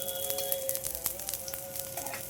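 Thalipeeth frying in oil in a pan over a gas flame gives a steady, close sizzle with fine crackling pops throughout, and no voices.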